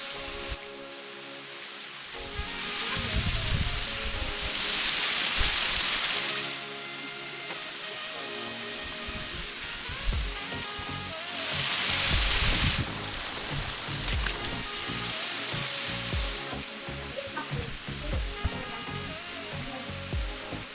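A waterfall in Highlands, North Carolina roars with a steady, broad rushing hiss that swells louder in two long surges, with no talking.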